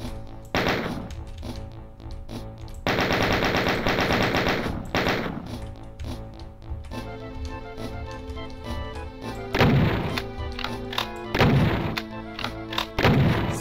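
Video game gunfire fills the clip as a player shoots at a switch on a Doom-style map: rapid machine-gun bursts, sustained rattling volleys and heavy booming shots in close, loud succession. No one speaks.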